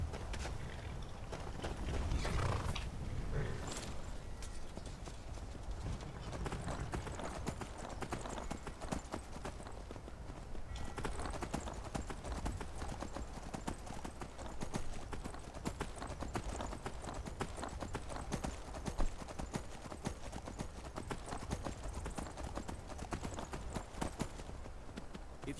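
Continuous rhythmic clip-clop of horse hooves at a steady trot in Skyrim, close and even throughout, with a brief snort or whinny near the start.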